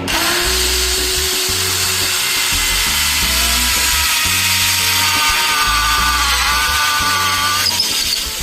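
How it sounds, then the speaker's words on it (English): A power drill bores an 11 mm hole into an LC300 rear expedition platform, a loud, close, continuous whine with a low pulsing rumble under it as the bit works through the material. "What's the bit size? It's about 11 millimeters."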